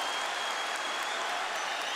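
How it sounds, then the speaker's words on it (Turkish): Steady applause from a football crowd for a player during a Galatasaray versus Beşiktaş veterans match, dense and unbroken throughout, with no voices clearly audible above it. "Alkış alıyor Kerem."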